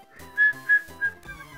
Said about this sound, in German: ich höre auf zu pfeifen, ich kann es nicht